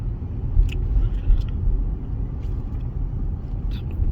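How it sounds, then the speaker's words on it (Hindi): A car cruises along Highway 401 in Toronto, giving a steady low road rumble and tire roar from inside the cabin, with faint brief higher swishes of passing traffic. "बस तो अभी चल रही है गाड़ी।"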